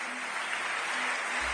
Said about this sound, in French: Est-ce que nous pouvons encore les encourager par nos acclamations?